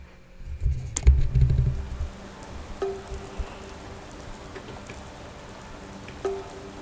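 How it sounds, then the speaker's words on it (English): Steady rain hiss falls through a night thunderstorm in the cozy house renovation game Hozy, with a low rumbling burst near the start and a few faint tonal accents over the wash. "It's night time, raining, thunderstorm."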